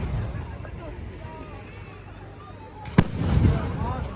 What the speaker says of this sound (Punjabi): ਇਹ ਜਿਹੜਾ ਇੰਨਾ ਟਾਈਮ ਪਟਾਕੇ ਚੱਲ ਰਹੇ ਆ